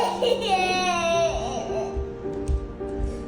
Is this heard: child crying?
yes